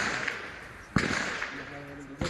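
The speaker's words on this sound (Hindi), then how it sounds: "आप सुन सकते हैं, जबरदस्त फायरिंग हो रही है" Gunfire during a daylight encounter between security forces and militants in Tral, Jammu and Kashmir: a few sharp, distant cracks spaced apart, over a noisy background, with a voice speaking.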